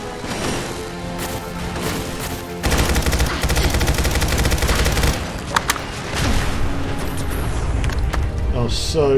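Gunfire and explosions from a Robco Space Sentry bot fight in Fallout 4, loud rapid bursts with heavy booms and crashes, continuous and dense with sharp blasts throughout.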